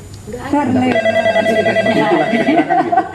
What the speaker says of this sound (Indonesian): Sebenarnya mau kembali, tapi ada telepon, kita dapat telepon dulu ya